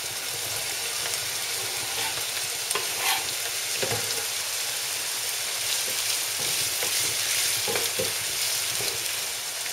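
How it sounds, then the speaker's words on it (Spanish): Onion and red pepper frying in hot oil for a sofrito, a steady close sizzle with occasional stirring scrapes and no talk throughout. "el sofrito, cuando el aceite esté empezando a estar caliente, ponemos la cebolla,"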